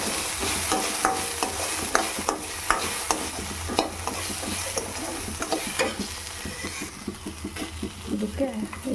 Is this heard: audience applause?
no